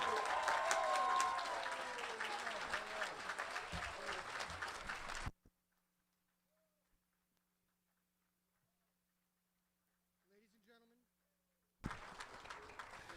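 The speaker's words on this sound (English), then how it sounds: "give them a round of applause, congratulating them on the graduating class 2020" Applause for a 2020 high school graduating class at a ceremony, a dense burst of clapping that stops abruptly into near silence, then returns just as suddenly at the end.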